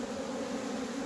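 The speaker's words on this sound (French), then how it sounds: "Encore un peu d'abeilles." Honeybees hum with a steady, close buzz as they are shifted from a small nucleus box into a full hive, with no other sounds.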